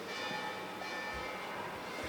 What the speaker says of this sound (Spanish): En vez de la campana de la iglesia se utiliza el litófono